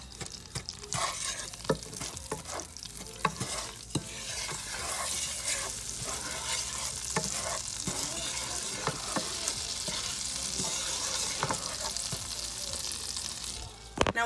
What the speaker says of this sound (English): give that a mix and break the brown sugar down into the butter